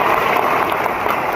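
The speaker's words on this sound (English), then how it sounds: "give her a big clap for this particular program" An audience at a women's mentorship event claps for the speaker's mother, producing a short, even, continuous wash of many hands applauding with no voices on top.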